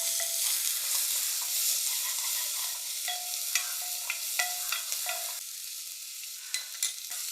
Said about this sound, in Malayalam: സവോളയൊക്കെ നന്നായിട്ടൊന്ന് വഴന്നോട്ടെ